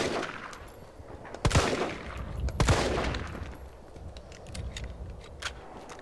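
Gunfire in Resident Evil 3 Remake: a few sharp shots close together near the middle, then lighter scattered cracks over a noisy background.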